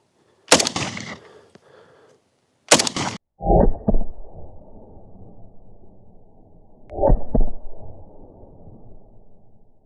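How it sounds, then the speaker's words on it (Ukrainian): Kalashnikov rifle shots fired at an American ceramic armor plate: two sharp, loud cracks a couple of seconds apart, each followed by a heavy booming report and long rumbling echo outdoors, with silence between. "Зараз буду стріляти по американській плиті"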